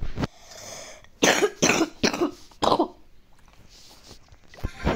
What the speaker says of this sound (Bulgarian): Леко кашлям, аз съм болен